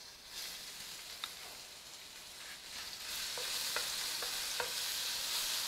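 Garlic frying in a generous pour of olive oil with seasoned Uarini cassava flour, a steady soft sizzle with brief scraping stirs, close and fairly quiet, growing a little denser toward the end.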